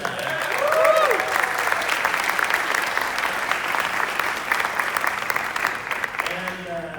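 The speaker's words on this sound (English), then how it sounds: "A big applause." A conference audience at BitConf in Latin America applauds, loud and sustained clapping from a crowd. A voice speaks briefly at the start and again at the end.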